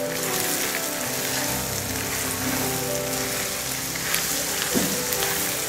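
Small shallots and a chopped onion frying in oil in a pan for Kerala chicken curry, a dense, steady, loud sizzle like rain, continuous throughout with faint stirring, no talking.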